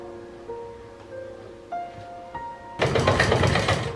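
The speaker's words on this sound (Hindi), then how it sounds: "किनारी किनारी पे इसी तरीके से द्वारा से मशीन फेरेंगे ताकि ये लेस अच्छे से सेट हो जाएगी" Sewing machine stitching a lace border along the edge of a homemade door mat, heard as a sudden dense rattling whir starting near the end, preceded by quiet background tones and small clicks.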